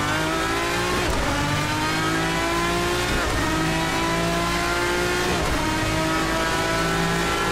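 A car engine in the Assetto Corsa racing game roars loud and constant, with repeated downshift blips and rev changes about every second or two as the gears drop one after another.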